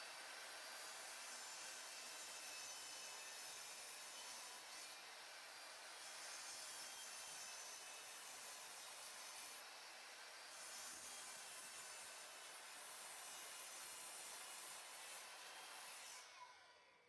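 Several wooden table legs gang cut together with a saw, a steady, fairly loud rasping cut running almost continuously with slight swells in intensity.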